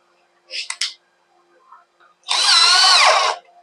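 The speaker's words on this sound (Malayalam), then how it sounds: "ഇങ്ങനെ പാക്കിങ് ഇട്ടു, അവിടെ വെച്ചിട്ട് ഇത് സ്ക്രൂ ചെയ്യുകയാണ്" A power drill drives a screw through packing. A brief whirring blip comes first, then after a pause a longer, loud, close run whose motor pitch rises and falls as the screw seats before cutting off.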